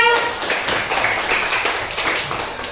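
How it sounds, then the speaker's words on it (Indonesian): Classroom applause for a student, a dense patter of many hands clapping at close range that runs steadily for a few seconds, with faint voices mixed in. "Tepuk tangan untuk Dika"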